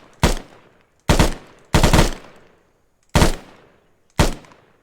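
Gunfire from modded weapons in Arma 3: five loud, separate shots at uneven intervals, each a sharp crack followed by a short decaying echo, with no voices.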